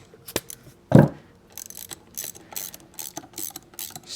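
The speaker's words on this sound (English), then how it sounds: "we're just going to use a regular ratchet" A hand ratchet works a bolt on a GM 4L80E automatic transmission, giving rapid, close clicking in uneven bursts with a sharper knock near the start, loud and crisp against a quiet shop.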